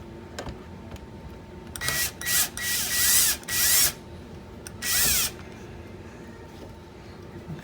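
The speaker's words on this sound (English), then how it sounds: "So I'm going to remove the screws for the cruise control stalk." A power driver whirs in several short bursts, removing screws from the cruise control stalk during a steering wheel swap on a 2017 Toyota Corolla iM, with quiet ratcheting clicks in between.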